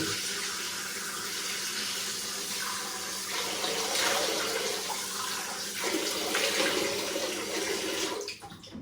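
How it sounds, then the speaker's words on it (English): Hot water pours from a bathroom tap into a sink in a continuous, fairly loud rush that shifts slightly in tone as the flow changes, then cuts off abruptly near the end. "more hot water in the sink"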